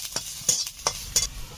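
Turmeric powder goes into a hot sizzling pan and is stirred, giving several sharp scraping strokes in an uneven rhythm over a soft frying hiss. Nobody talks.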